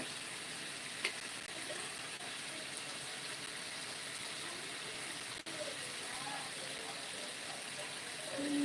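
Noodles frying in a pan as soy sauce is added, a steady broadband sizzle running throughout at moderate level with a faint stirring knock near the start, quiet and without talk.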